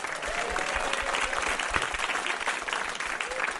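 A studio audience claps steadily and warmly for comedian guests on a TV panel show. The applause is dense and sustained throughout, with a faint voice underneath.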